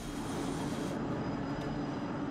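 Jet aircraft engines roar steadily on an active carrier flight deck, a dense, loud broadband rush with low rumble that holds constant throughout, slightly dulling partway, and no voices over it.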